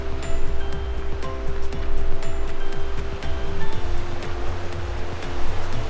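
Sea waves surge and wash over a rocky coastline at Senjojiki on the South Izu coast, a steady loud roar of surf with repeated breaking swells close by, with no voices.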